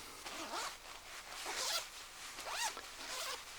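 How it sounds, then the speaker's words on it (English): Zippers on jacket pockets are pulled open and shut several times, quick rasping strokes, close and fairly soft. "It's also got zipped pockets on it, which is very good."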